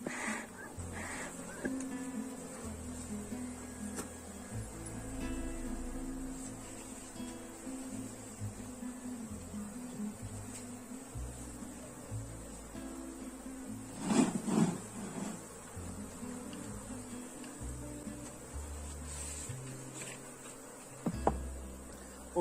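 Bees buzz around an open beehive in a soft, continuous drone, faint and close, with occasional louder passes and small handling knocks, and no talking.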